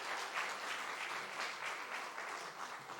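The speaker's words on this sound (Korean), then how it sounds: "박수 좀 해주세요" Church congregation clapping during a service, a faint steady patter of applause heard from a distance, continuous for a few seconds.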